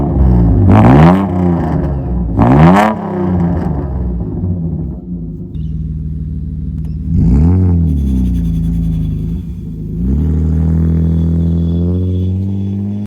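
A car's engine, sitting unused for a long time and just fitted with a new fuel pump, fires up and revs in two sharp close bursts, then revs once more and settles into a steady, loud idle, with no talking.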